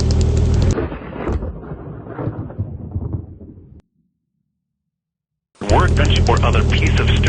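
Thunderstorm in the Roblox game Twisted: rain and rumbling thunder play loudly, drop into a short stretch of silence, then a sharp, loud thunder crack bursts back in.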